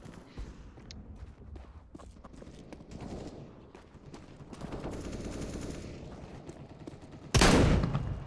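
Gunfire in Counter-Strike: Global Offensive, with scattered shots and footsteps followed by a loud close blast near the end, set over continuous game ambience with no talk.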